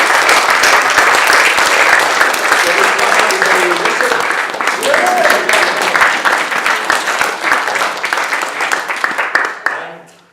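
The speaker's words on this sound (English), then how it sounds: "we could clap everybody who played and sang" An audience applauds performers who played and sang at a Black History Month event, a dense, sustained burst of clapping lasting about ten seconds before it fades out abruptly, with a few voices mixed in.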